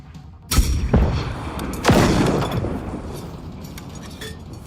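Gunfire in the video game Generation Zero, two heavy blasts a second or so apart, each with a long rumbling decay, followed by fainter clinking debris.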